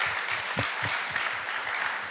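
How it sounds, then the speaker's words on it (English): Audience applause at a youth peace and sustainable cities forum, moderate and continuous clapping with a faint low rhythmic thump underneath, no speech on top. "a big applause to all these 8 cities that"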